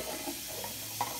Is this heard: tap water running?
yes